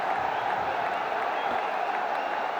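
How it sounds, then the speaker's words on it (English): A cricket crowd at a BPL T20 match between Comilla Victorians and Fortune Barishal applauds a batsman's six, a loud, sustained wash of clapping and cheering that fills the whole stretch. "And they rise to applaud him."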